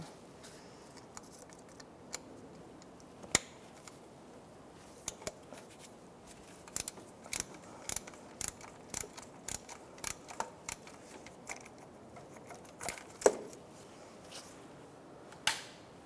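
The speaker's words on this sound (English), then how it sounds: "And that's a 3/8 drive, so I'll take my 3/8 ratchet and I will" A 3/8-inch drive ratchet loosens the oil pressure switch on a 2005-2010 Chevrolet Cobalt, giving sharp, close metallic clicks in scattered bursts, some quick and evenly spaced, over a quiet background with no talking.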